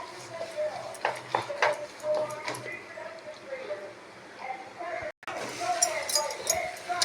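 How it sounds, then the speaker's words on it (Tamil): Potatoes with salt and turmeric are sautéed in a pan, the spatula scraping and clinking against the metal in scattered, fairly close taps while a person keeps talking over it. "லேசாக வதக்கணும்"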